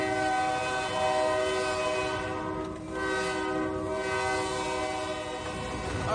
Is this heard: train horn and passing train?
yes